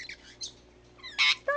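Pet birds at home give a few short bursts of shrill squawks and chirps, with one loud harsh squawk near the end, close and otherwise quiet.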